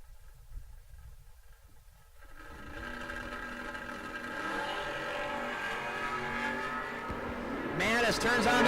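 Drag racing at a no-box event, with a Pontiac and a wheel-standing Thunderbird on the strip: a steady engine drone builds and grows louder, then a sharp high-revving surge near the end.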